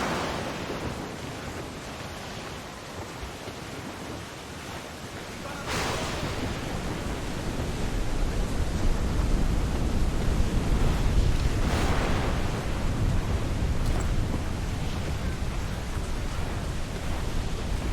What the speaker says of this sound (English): Water spout, man! Stay wide!